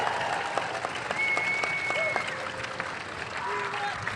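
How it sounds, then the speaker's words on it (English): At a hockey fan fest, a crowd applauds the team captain, Erik Karlsson, after a one-on-one session: sustained dense clapping with scattered whistles and cheers, steady throughout. "How about a round of applause for the captain, Erik Karlsson"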